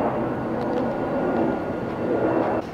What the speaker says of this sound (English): That plane is noisy. I'm gonna wait for this plane to go by.